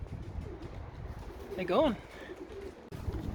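A single soft pigeon coo rises once near an outdoor loft in the rain, faint behind steady background noise and a brief spoken phrase.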